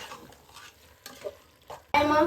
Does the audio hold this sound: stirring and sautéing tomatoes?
yes